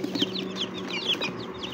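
Newly hatched chicks from a manual incubator peep in a steady stream of short, high chirps, several birds calling close by with no voices.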